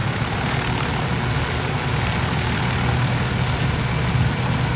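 A helicopter in the video game Ghost Recon Wildlands gives a steady, dense rotor and engine whir that stays even throughout, with no voices over it.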